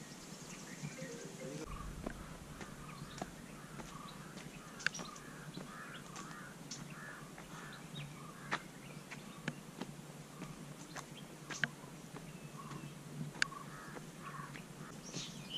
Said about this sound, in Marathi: पक्ष्यांचे आवाज आहे का?